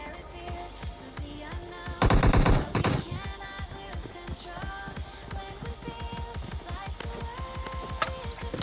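Shotgun fire in the PUBG Mobile video game rings out as close, sharp repeated shots, with a dense, loud burst early on and a steady run of reports after it.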